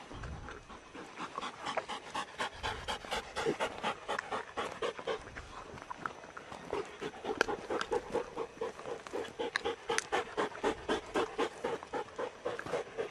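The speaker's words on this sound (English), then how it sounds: "All the dogs getting ready." Hounds pant quickly and rhythmically, several dogs close by breathing hard in fast, even huffs, with a few soft whimpers mixed in.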